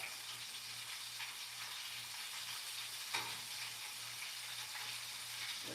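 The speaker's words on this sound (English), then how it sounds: "Hold on, let me flip this fish out." Fish fries in a pan with a steady, even sizzle and hiss. Midway, a brief clatter marks the fish being flipped.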